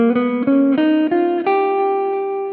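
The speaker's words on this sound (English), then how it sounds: "We'll be taking the G altered scale, which sounds a bit like this" Guitar playing a G altered scale, seven-ish clearly plucked single notes stepping upward at an even pace, the final note left ringing and slowly decaying, close and solo with no talking.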